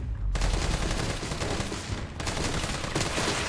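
Rapid gunfire in the video game Resident Evil 3 Remake, a fast, continuous stream of sharp shots after a brief quiet start, with a short dip in the middle before the shooting resumes, loud and close.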